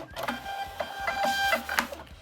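A Rollo thermal label printer runs after being cleaned, producing short mechanical whirring feeds with rapid clicks and high motor whines, several quick bursts in a row heard up close.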